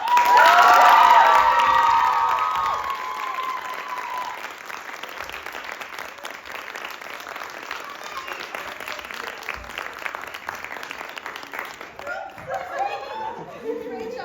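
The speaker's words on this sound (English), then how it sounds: "Please, y'all give a round of applause." A theatre audience bursts into loud applause and cheering with whoops, then settles into sustained clapping and crowd chatter, with talk emerging near the end.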